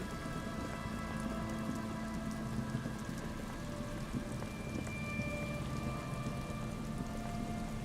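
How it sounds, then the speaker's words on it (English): Steady rain patters and hisses over reeds beside an abandoned campsite in a video game, a continuous, even wash of drops with no voices. "the reeds by the abandoned campsite hiss and shake in the lazily falling rain"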